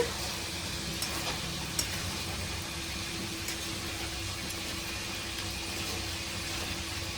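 Chicken and ginger paste stirred in a hot pan, a steady low sizzle with faint scraping throughout, no voices.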